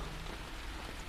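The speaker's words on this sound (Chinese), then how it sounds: "下这么大雨" Heavy rain pours down at night outside a swimming hall, a dense and even hiss of drops drumming on surfaces, steady throughout with no voices.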